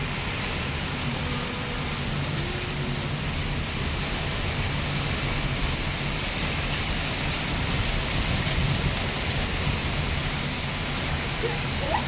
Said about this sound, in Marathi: गारा पडल्यान गेलंय का?